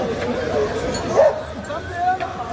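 Dogs at a Friday dog market sell male dogs, German Shepherds among them. A dog gives a short yip or whimper at mid-range amid crowd noise, and someone talks nearby.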